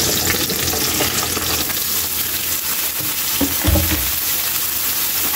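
Squash and vegetables cooking in a pot for a vegetable soup dish, a steady loud sizzle throughout with a brief scraping stir of a utensil partway through, close up and without talk.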